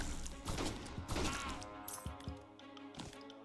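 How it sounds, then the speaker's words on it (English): Weapon explosions in the video game Caveblazers, a burst of loud booming blasts and crashes in the first half, then several smaller thumping hits over a busy game soundtrack. "And my weapon explodes."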